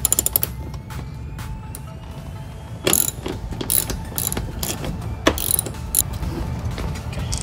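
A ratchet wrench turns out a 10 mm bolt on a 2011-2014 Chrysler 200 during fender removal, its rapid clicking pawl heard in short close bursts alone, with louder ticking runs toward the end.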